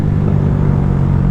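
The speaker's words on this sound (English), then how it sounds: "the gear change, it's kind of jerking at the gear change" 16HP drag motorcycle engine with a steady, loud, close rumbling drone as the bike jerks at a gear change, with no voices over it.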